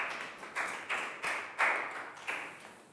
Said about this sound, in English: Big round of applause for Nadia.